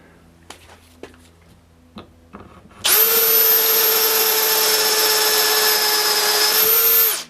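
A power drill with a 3/8-inch bit and depth stop spins up and runs steadily at high speed for several seconds while boring a stool part, loud and close, after a few quiet clicks and taps.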